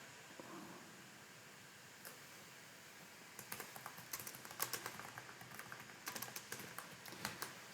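Rapid keystrokes on a computer keyboard, quiet and sparse at first, then a denser run of clicky typing in the second half, close to the microphone with a faint steady hum underneath.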